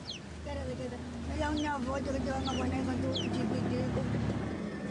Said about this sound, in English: This chicken is the family pet.